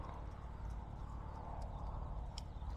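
Horses walking across open pastureland in rural New Zealand, hooves clip-clopping in a steady, uneven patter against a constant rush of wind, faint and at a moderate distance, with no talk over it.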